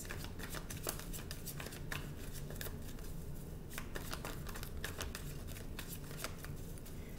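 Tarot cards being shuffled in a long, steady riffle of dense papery flicks and slaps, close and continuous, during a card reading with no talking over it.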